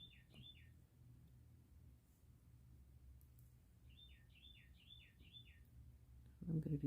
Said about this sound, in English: I would like to know what kind of bird that is